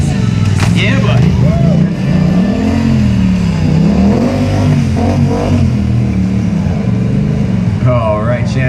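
A stunt motorcycle at a stunt show revs and surges as it rides figure eights, the engine pitch rising and falling in repeated swells, loud and close.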